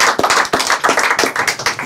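A studio audience claps on a French music show, loud and close, with distinct sharp hand claps in a quick, slightly uneven rhythm throughout.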